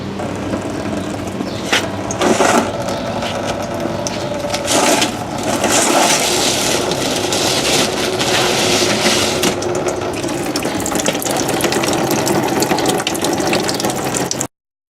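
A radiator petcock is unscrewed to drain engine coolant, giving steady close mechanical ratcheting and grinding with faint trickling water beneath. The sound runs continuously for about fourteen seconds, then stops abruptly.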